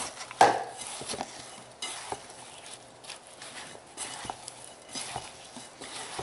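Apple and cranberry filling mixed in a bowl: soft, quiet scraping strokes with one sharp clink early and a few light taps of the utensil.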